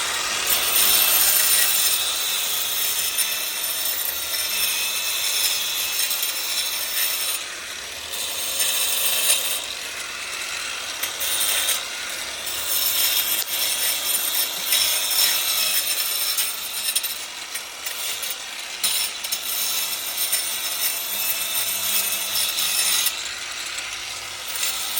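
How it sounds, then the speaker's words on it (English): An angle grinder cuts out mortar joints in a crumbling foundation wall, giving a harsh, gritty, high-pitched abrasive whine that wavers continuously with brief dips as the blade moves along the joints, close and loud without speech. "We're gonna grind out the mortar joints so we can fill in all the loose areas"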